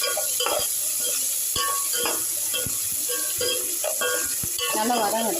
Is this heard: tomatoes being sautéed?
yes